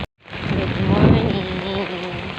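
Heavy typhoon rain pours steadily with a low thundery rumble building and fading, loud and near, with a brief sharp sound at the very start and no clear talk.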